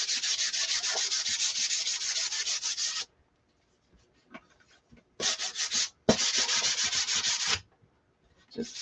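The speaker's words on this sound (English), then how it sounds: "just give it a light sanding" Rapid back-and-forth scratchy strokes of sandpaper lightly sanding wood, close up, in three bursts separated by short pauses.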